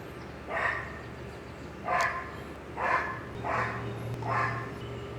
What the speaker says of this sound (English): the neighbor's psycho dog next door.